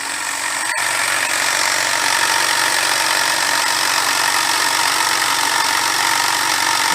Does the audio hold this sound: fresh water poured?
no